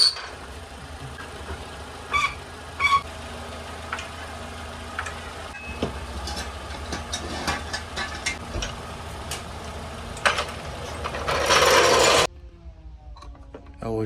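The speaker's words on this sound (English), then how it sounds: "we're just going to get it up on some stands, jack it up" A car is raised with a jack and set onto stands, giving close ratcheting clicks and metallic clanks over a low mechanical hum, ending in a louder broadband rasp before falling quiet.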